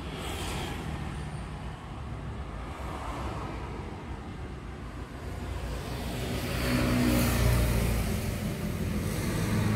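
Road traffic on a quiet street in Lampineung close to midnight: cars and trucks rumble by one at a time, a steady low drone that swells louder as a vehicle nears, with no voices.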